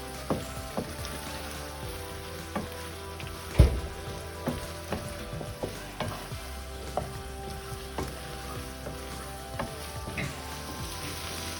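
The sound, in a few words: stirring prawns roasting in a non-stick pan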